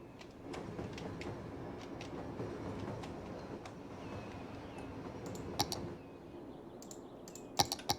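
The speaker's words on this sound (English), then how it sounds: "So the cargo trains are now still stuck in this mess." Cargo trains rumble steadily through a busy city in the video game Cities Skylines, with a continuous low rail drone and scattered sharp clicks, some louder near the end.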